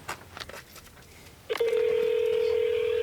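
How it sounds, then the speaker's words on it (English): A handset picks up with faint room noise, then a loud steady dial tone sounds on its own, the line opening to place a call to a refrigerator manufacturer's technical service line. "So let me grab a phone and make a call."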